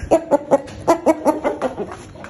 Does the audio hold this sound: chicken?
yes